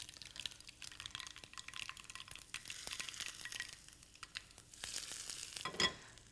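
Panch phoron spices crackle and sizzle in fully heated oil for a tempering, a soft, busy frying hiss with scattered pops and stirring clinks, ending in a brief louder burst.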